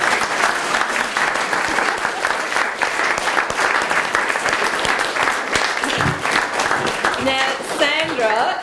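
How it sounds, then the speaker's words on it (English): A big round of audience applause for the organiser at a mayor's youth speech competition, loud and continuous throughout, with a voice starting to speak over the tail of the clapping. "Sandra Cormack, give her a big clap."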